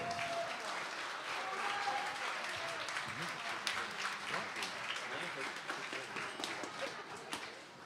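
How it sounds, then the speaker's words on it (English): Crowd at the VRLAN Amsterdam esports event applauding and cheering after a VAIL semi-final match, a dense, fairly distant wash of claps and shouts sustained throughout, with a voice faintly heard within it. "Everyone, give them a cheer."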